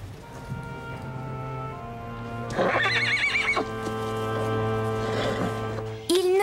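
A horse gives one loud, close, quavering whinny, its hoofbeats clip-clopping lightly around it over a constant low hum.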